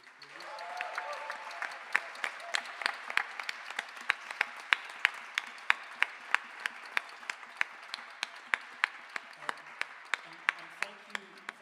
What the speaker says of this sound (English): Let's give everyone a big round of applause, please.